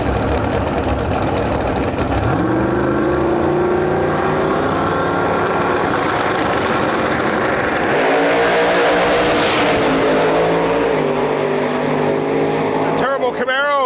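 A split bumper Camaro and a New Edge Mustang drag race on a strip. Loud engines roar and rev hard throughout, rising as the cars launch and tear away with shifting pitch, while an announcer talks over them.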